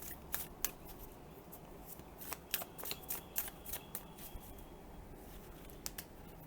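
Rapid clusters of crisp flicks and riffles from thick tarot cards, a riffle shuffle repeated several times with short pauses, close and fairly quiet.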